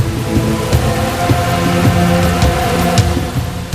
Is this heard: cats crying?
no